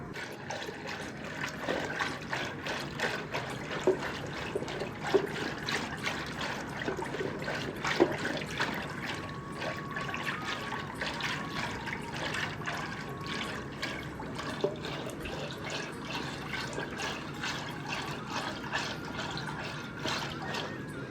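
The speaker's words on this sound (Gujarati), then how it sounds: "પછી પાણી ઉમેરશું અને પાછા ઝેરતા જશું" Water is poured into a yogurt and gram flour batter for kadhi while it is whisked, making a steady, close trickling and sloshing that runs for about twenty seconds with no talking.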